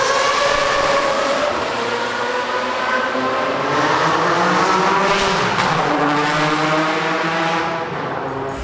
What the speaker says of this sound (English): Motors sound like they're running clean today